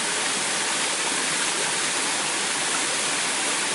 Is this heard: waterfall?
yes